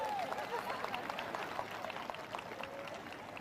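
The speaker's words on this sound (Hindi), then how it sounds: "जोरदार ताली बजाएं।" Crowd applauding at a church ministry gathering, dense clapping that stays fairly quiet and distant, mixed with a few voices.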